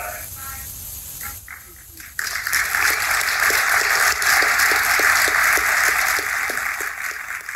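After a speech by a fire chief, an audience breaks into applause of many hands clapping steadily for several seconds, preceded by a quieter passage with talk.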